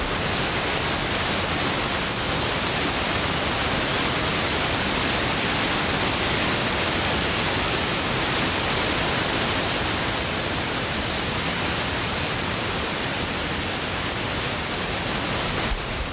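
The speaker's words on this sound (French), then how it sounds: "la violence le bruit de l'eau, tu vois, contre la roche et tout, c'est abusé" A powerful waterfall in Canada pounds against rock, making a loud, steady, unbroken roar of broadband rushing water that stays constant throughout and has no voices over it.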